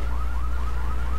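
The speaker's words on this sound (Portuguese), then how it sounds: "o alarme não vai parar de disparar, mano." Car alarm in GTA 3 Definitive Edition, a steady repeating warbling siren tone cycling about every quarter second over a constant low engine-like hum, loud and continuous with no talk.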